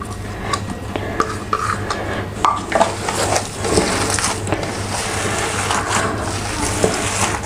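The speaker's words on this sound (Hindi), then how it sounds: "इसको मैं अच्छी तरह मिक्स कर लूँ।" Beef qeema kebab mixture being worked by hand in a bowl, with soft squelching and mashing sounds that run steadily at close range and carry occasional sharper crackles.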